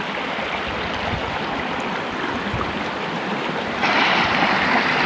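River current rushing past in the oldest hamlet of Kalongan village, Ungaran, a steady loud broadband wash that swells slightly louder near the end.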